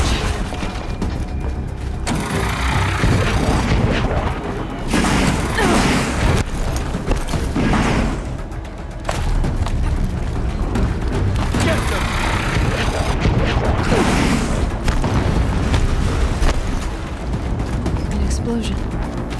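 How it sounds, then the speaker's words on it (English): Explosions and heavy combat rumble fill the Horizon Zero Dawn PC game scene, with loud, dense booms and mechanical clatter running almost continuously, briefly dipping before building again, while character voices sit under the din. "An explosion."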